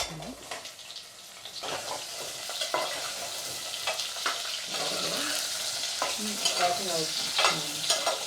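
Onions and cashews frying in a pan for East Godavari style prawn pulav, with a soft sizzle and scraping stir strokes, plus some water and kitchen clatter; a voice speaks briefly in the background.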